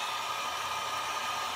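Constant airy roar of a heat gun blowing, steady and unbroken from start to finish.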